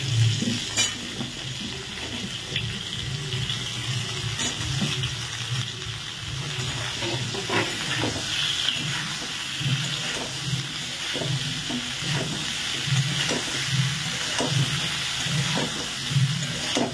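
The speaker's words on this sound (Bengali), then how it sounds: "আলু আর ফুলকপিটা ভাজা হচ্ছে" Potatoes and cauliflower fry in a pan with a steady, close sizzle and hiss, broken by frequent stirring scrapes and taps, and no talk over it.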